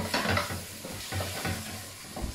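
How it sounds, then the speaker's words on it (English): Fresh tomato gently sautéing in a pan for Hungarian goulash, a soft steady sizzle with rhythmic stirring scrapes repeating every half second or so, close and quiet. "Gently, just gently make it saute."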